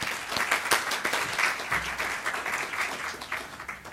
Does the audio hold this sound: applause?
yes